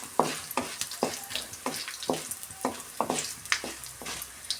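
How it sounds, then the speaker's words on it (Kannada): Green chillies and coriander seeds fry in a pan over a low flame, giving a soft sizzle broken by regular, rhythmic scrapes of a spoon stirring. "ಇದನ್ನೆಲ್ಲ ಸೇರಿಸಿ ಸ್ವಲ್ಪ ಫ್ರೈ ಮಾಡ್ಕೊಳ್ಳೋಣ ಕಡಿಮೆ ಉರಿ ಇಟ್ಕೊಂಡು ನಾವು ಫ್ರೈ ಮಾಡ್ಕೊಬೇಕು"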